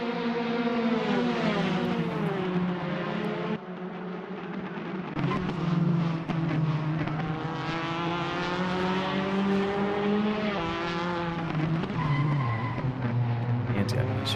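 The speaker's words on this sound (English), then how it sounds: "And still locking up those brakes behind Misha" Race car in a Formula Argentina sim race at Londrina, its engine whining loudly and continuously while tires squeal and skid as the brakes lock up, with a commentator talking over the top.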